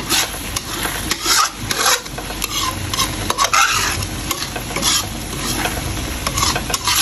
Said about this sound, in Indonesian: Jadi sambelnya tak goreng.